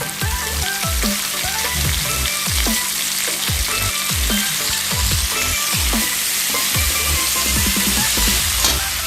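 Diced potatoes fry in a pan for an aloo and green onion dish, giving a loud, continuous sizzle close by, broken by frequent sharp clinks and scrapes of stirring throughout.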